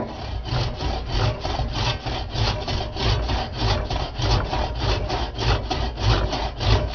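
A hand push saw cuts a tree branch during pruning, with even, rhythmic rasping strokes, loud and close, continuing steadily throughout.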